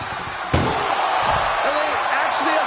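In a wrestling video game, a door bangs shut with one sharp slam early on, followed by continuous loud crowd and commentary noise with people talking throughout.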